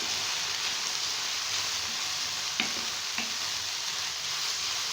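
Cabbage and vegetables with a crumbled chicken cube frying lightly in a pan for Chinese rice, a continuous hissing sizzle with a couple of faint utensil knocks near the middle, no voices.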